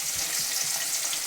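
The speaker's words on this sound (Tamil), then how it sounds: "இப்போ ஒரு மீனை போட்டாச்சு, ஒரு மீனை வறுத்து எடுப்போம்." Fish sizzles and fries in a hot pan in a home kitchen, a steady bright hiss that holds evenly throughout.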